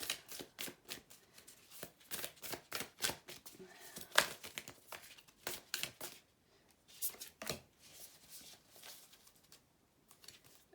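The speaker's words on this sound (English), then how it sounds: "I'll do a couple more shuffles" Tarot cards being shuffled produce quick bursts of crisp riffling and soft slapping, close and fairly quiet, in uneven clusters separated by short pauses.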